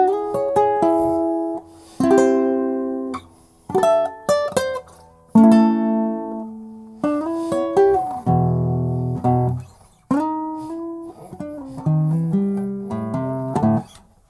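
Fingerstyle classical guitar, a nylon-string sound of plucked melody over bass notes and chords in phrases with short pauses, played close and alone with no talking.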